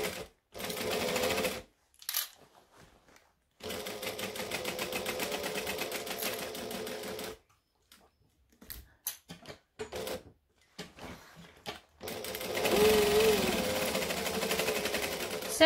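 A sewing machine stitching a hexagon bag runs in several bursts of steady whirring, with short pauses and one long run at the end, while the needle is stopped down for pivots between seams.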